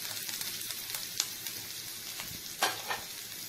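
Chopped garlic, grated ginger, green chilies and chopped onion frying in a pan, a faint steady sizzle with occasional soft stirring scrapes.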